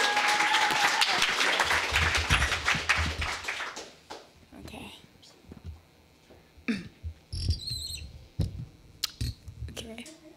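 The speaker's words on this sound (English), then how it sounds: "one more round of applause for the Burning Spear production team." An audience at a political party congress gives loud sustained applause for a production team, fading after a few seconds into scattered claps, movement and murmuring voices.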